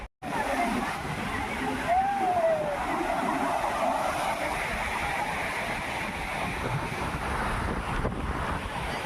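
Sea waves wash onto a beach in a constant roar, with heavy wind buffeting the microphone throughout.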